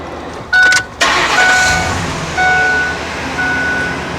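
A car engine on a test bench idles after starting, a loud close rumble with a brief surge and a steady tonal whine settling down over several seconds.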